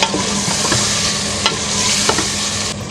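Tomatoes frying with ginger and garlic in a pan for a cabbage and meat curry, a steady close sizzle broken by several soft spoon scrapes and stirring knocks, with no voices.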